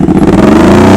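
A motorcycle engine hums steadily at low revs during slow-speed riding practice, a close, loud, even drone with a slight pulsing throb and no talk over it.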